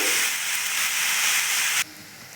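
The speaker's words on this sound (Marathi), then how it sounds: "तूप आपलं गरम झालेलं आहे आता टाकूयात बटाटे छान तुपामध्ये घेऊयात परतून मंद आचेवर घेऊयात परतून" Potatoes frying in hot ghee over a low flame give a steady, loud broadband sizzle and hiss that holds evenly, then drops abruptly to a much quieter simmering hiss near the end.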